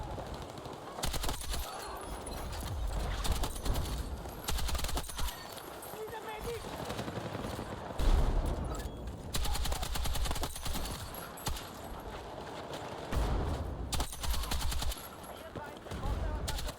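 Sustained M240L machine gun fire in the shooter game Battlefield 6, long rattling bursts broken by short pauses, loud and close, with players talking over the shooting.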